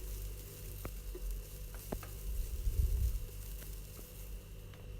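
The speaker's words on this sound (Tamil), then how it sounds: "தேங்காய் நல்லா ப்ரௌன் கலர் ஆகிற அளவுக்கு நல்லா வதக்கிக்கோங்க" Grated coconut being sautéed in a pan until brown, a low, quiet sizzle with a few light scrapes and a soft rumble under it, no speech.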